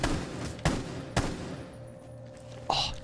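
Gunshots from Rainbow Six Siege, a few sharp isolated cracks spaced out over a low background hum, fairly loud and close with no talking.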